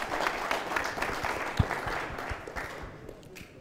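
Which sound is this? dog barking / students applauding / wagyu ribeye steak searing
students applauding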